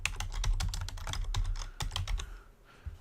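Rapid keystrokes clatter on a computer keyboard in a quick uneven burst, close and clear, trailing off into a few scattered taps at the end.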